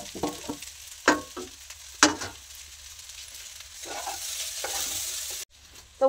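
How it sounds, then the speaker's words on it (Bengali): Pasta and pre-fried vegetables frying together in a pan, with a soft steady sizzle, a few sharp clinks and scrapes of a spoon stirring, and a quieter hiss trailing at the end. "পাস্তাটা ভাজা হচ্ছে, তার মধ্যে যে সবজিগুলো ভেজে রেখেছিলাম ওটা ওর মধ্যে একসাথে দিয়ে দেবো"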